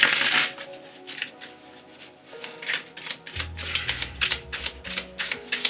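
A deck of animal spirit oracle cards is shuffled by hand in a quick, rhythmic series of riffling bursts, close and fairly loud, with a low hum entering partway through.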